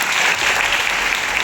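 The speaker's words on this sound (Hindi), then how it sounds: "एक बार जोरदार ताली दीजिए" An audience at an empowerment training seminar bursts into loud, dense applause, a sustained wash of clapping from a close crowd with no pauses.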